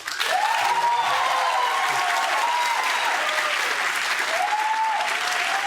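Sustained, dense applause from a crowd at a Brazilian political debate event, steady and full throughout with faint cheering or voices rising over it.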